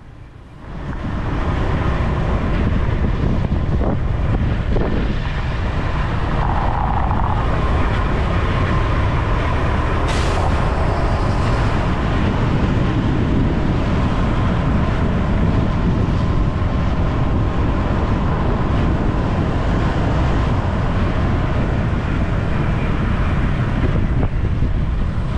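Heavy road traffic on a busy stretch in Pattaya, Thailand, a continuous loud rumble of passing vehicles with engine drone and tire noise, steady throughout with a brief higher hiss midway.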